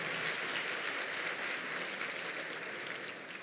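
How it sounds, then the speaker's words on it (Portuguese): A church congregation applauds during a sermon, a steady dense wash of clapping that holds at an even level and eases slightly toward the end. "Vamos aplaudir o Senhor por causa disso?"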